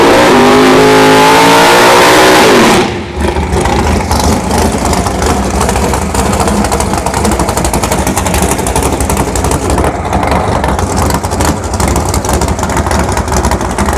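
A boxy drag racing car launches and accelerates hard down the ShowTime dragstrip, its engine climbing through a rising whine before a loud, sustained roar that holds for many seconds without any talk.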